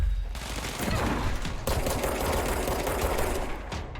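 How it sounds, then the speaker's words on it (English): Sustained submachine gun fire in the action video game Control, a dense, loud stream of rapid shots running unbroken for several seconds. "There's a submachine gun or something."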